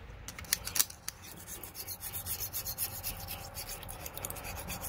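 Hand scraping of old gasket material from a Mercruiser 260 intake manifold surface, a steady run of close, rough rasping strokes with a few sharper scrapes early on.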